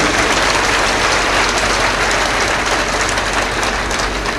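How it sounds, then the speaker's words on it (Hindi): A large crowd at a Kumbh Mela religious discourse claps for a group of saints, producing loud, dense, steady applause that fills the whole stretch without a break. "एक बार ताली बजाकर हमारी संत मंडली का अभिनंदन कीजिए।"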